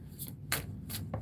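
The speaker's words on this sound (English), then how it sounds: "Now I'm going to shuffle the cards again." Tarot cards being shuffled by hand, with a few brief, soft riffling bursts close by and short quiet gaps between them.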